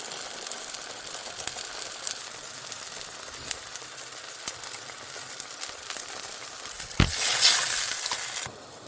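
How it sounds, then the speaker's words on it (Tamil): Tamarind water simmering gently in a Sri Lankan brinjal curry with chickpeas: a soft, bubbling hiss sprinkled with small pops and clicks, swelling briefly into a louder sizzle near the end. "இப்போ நீங்கள் பார்த்தீங்கன்னா நான் புளி விட்டது கொதிச்சு வருது சாதுவாக."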